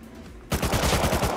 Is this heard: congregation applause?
no